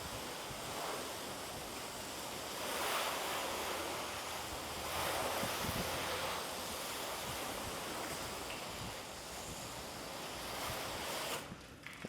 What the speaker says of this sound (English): So let's rinse this and see if there's any change.